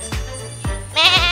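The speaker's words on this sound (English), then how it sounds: "And there goes a goat." A goat bleats in the Barbados back country, a short wavering call up close and loud, with a few soft thuds just before it.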